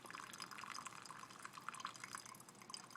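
Coffee dripping through a paper filter in a Chemex pour-over brewer, heard as a steady, close run of small trickling drips with no talk.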